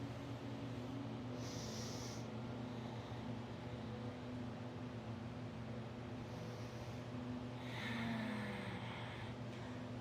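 Quiet breathing during a yoga twist: two soft, drawn-out breaths separated by a pause, over a steady low room hum.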